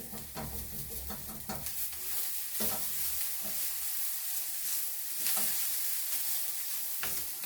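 Lyonnaise potatoes frying in a pan while being stirred, a soft continuous sizzle broken by repeated scraping and clattering strokes of the utensil, close and fairly quiet with no talk.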